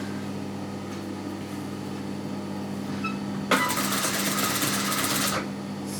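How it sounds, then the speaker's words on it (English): A sewing machine stitches around beaded neckline piping, running as a steady whirring hum that suddenly becomes louder and busier for a couple of seconds in the middle before easing back, with no voices. "and I'm just going to sew around."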